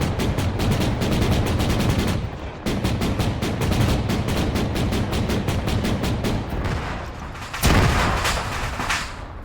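Sustained automatic gunfire in Arma 3 during a jungle operation, a rapid steady rattle of shots with a short pause near two seconds and a heavier burst or blast near the end, no talking.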